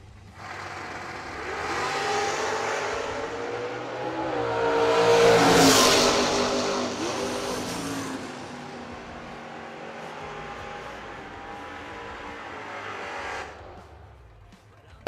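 A Camaro drag race car accelerates down the track, its engine swelling from a distant roar to a loud peak as it passes, then holding and fading before cutting off.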